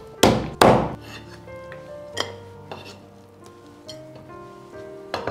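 A knife chopping through fish bones of a large wild pomfret, two loud close thuds at the start followed by a few softer knocks and a final chop, no talking.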